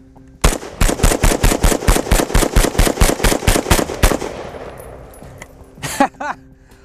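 Rifle firing after an endurance test, a rapid string of about twenty loud, evenly spaced shots lasting several seconds, followed by a fading echo and a couple of fainter mechanical sounds.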